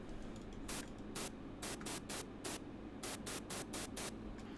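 A hiss of white noise pulses in rhythmic bursts over a steady synth lead, adding a bright, airy top layer.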